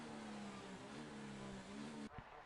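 A Formula race car in a racing video game runs slowly on its outlap, its engine holding a steady low drone before a brief shift near the end.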